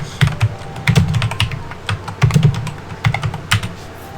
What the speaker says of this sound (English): Let's just type in this.